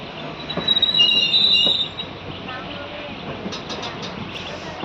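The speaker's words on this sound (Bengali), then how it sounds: "আমার ট্রেন একবার পুরো গোল করে ফিরছে" A train rounds a curved hill track with loud wheel squeal at first, then settles into a steady rumble of running wagons.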